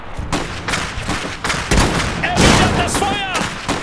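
Bursts of rapid gunfire crackle amid explosions and battle noise, with a voice shouting briefly in German near the end, in the game Iron Harvest on PS5.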